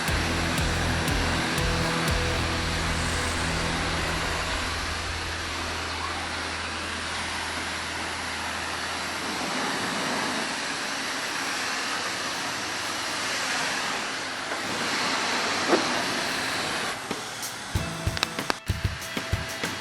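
Steady broad hiss of a coin-operated car wash pressure wand spraying water over a 2020 Chevy Camaro SS, a continuous rushing spray that fills the clip, with a low machine hum early and a few clunks near the end.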